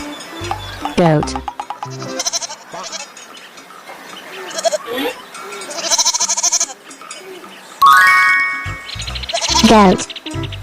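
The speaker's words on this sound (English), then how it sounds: "goat," Cartoon goat bleats from a children's farm-animal animation, several wavering calls scattered through the clip over a background of cheerful music and other sound effects.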